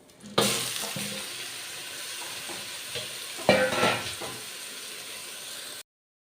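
Cinnamon, cloves, soya chunks and carrot frying in ghee for ghee rice, a constant close sizzle with a few sharp stirring scrapes, loudest at the start and midway.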